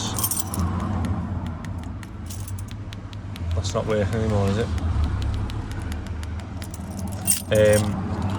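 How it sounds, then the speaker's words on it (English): Mercedes car keys jangle close by in short metallic bursts midway and again near the end, over a steady low background hum while a person talks. "I bought 2 new keys from Mercedes"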